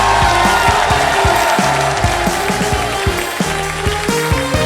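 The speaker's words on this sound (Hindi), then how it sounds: "Crocodile is the right answer. जोरदार तालियां" A game show audience on an Akshay Kumar show gives loud, sustained applause after a correct answer, with a dense wash of clapping and crowd noise under a rhythmic pulsing music beat.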